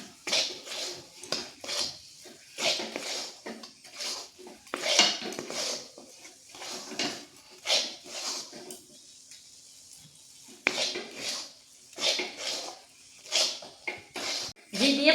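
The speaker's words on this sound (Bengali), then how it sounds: "ঘি দিয়ে খুব ভালোভাবে মিশিয়ে নিচ্ছে" Coconut sandesh being mixed with ghee in a metal kadai, a close run of repeated scraping and clinking strokes from a spoon against the pan, alone, with no talk.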